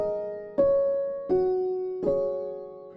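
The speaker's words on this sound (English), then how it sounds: "This is a morph between an upright felt and the cymbalom." Pianoteq Pro sound morphing an upright felt piano with a cimbalom, three soft plucked-struck notes spaced about a second apart, each ringing and slowly decaying, delicate and close with no talking.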